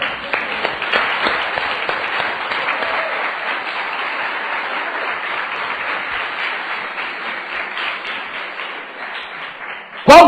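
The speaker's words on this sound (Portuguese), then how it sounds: "aplaude ao Senhor" A church congregation bursts into sustained applause for the Lord, a loud crowd of clapping hands that holds steady and then fades before a voice returns at the end.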